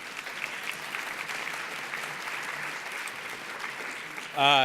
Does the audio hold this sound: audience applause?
yes